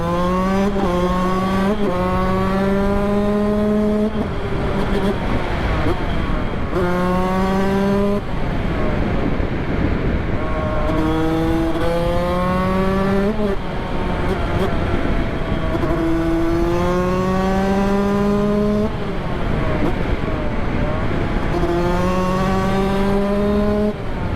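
A 125cc Yamaha YZ motorcycle engine revs up repeatedly through the gears, rising in pitch, dropping at each shift, loud and close, with no talking.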